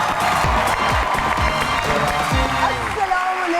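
An audience claps and cheers to welcome comedian Iftikhar Thakur onto a stage show, a dense, steady wash of applause lasting throughout with faint voices mixed in.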